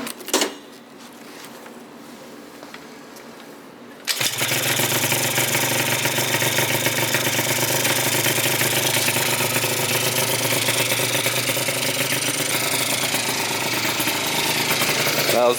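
A Yamaha Zuma 70cc scooter starts up, then its engine runs loud and steady at close range with a buzzy, continuous drone.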